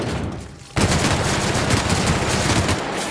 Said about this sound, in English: Now I gotta go kill me some bad animals over here with my new gun.